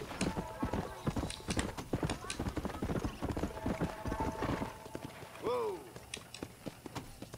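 Horse hooves clip-clop on the ground in the video game Red Dead Redemption, a quick rhythmic run that slows, followed by a short neigh, with voices talking over it.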